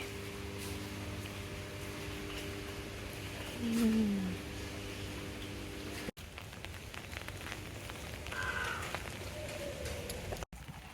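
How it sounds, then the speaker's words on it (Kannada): Steady rain patters on surfaces in a continuous soft hiss, with a faint voice and some brief handling noise. "ಮಳೆ ಬರ್ತಾ ಇದೆ"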